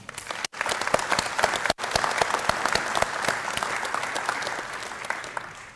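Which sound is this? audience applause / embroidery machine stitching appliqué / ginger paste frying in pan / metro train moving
audience applause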